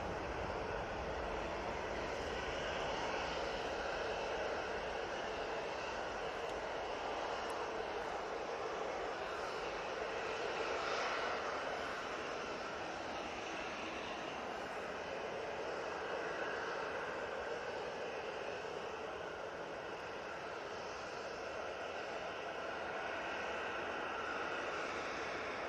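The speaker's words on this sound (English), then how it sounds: "Ryanair 737-800 now on the roll." A Ryanair Boeing 737-800 begins its takeoff roll at Manchester Airport, bound for Vienna, heard as a faint, distant, steady jet roar that swells slightly and holds.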